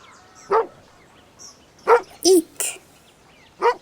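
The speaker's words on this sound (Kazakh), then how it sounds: "Ит." A domestic dog barks in short separate bursts, about five sharp woofs spaced irregularly over a few seconds, close and loud against a quiet background.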